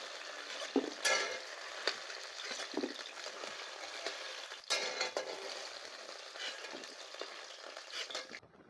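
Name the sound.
frying white yam pieces in pan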